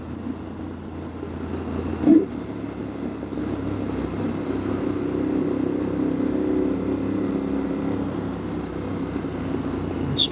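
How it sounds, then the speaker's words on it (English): A motorcycle with a loud aftermarket exhaust rumbles steadily through a road tunnel, a continuous reverberant low drone with a brief sharp blip, no talk over it. "First time I've ridden a motorcycle through a tunnel with an exhaust"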